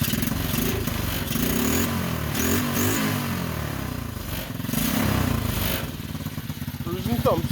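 A small Sportrider mini bike engine runs close by, buzzing and rising and falling as the throttle changes, with someone talking over it.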